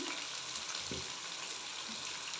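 Chicken sizzling in a pan with tomatoes and sliced green chillies, a steady soft crackle and hiss of frying, with a brief stirring clatter near the start.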